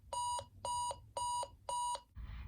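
An alarm clock set for 7 a.m. rings in four loud, evenly spaced electronic beep bursts, clear and close with no voices.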